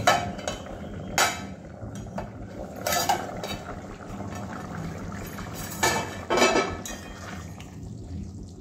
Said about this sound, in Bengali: এবারে ঢাকনাটা খুলে দেখছি।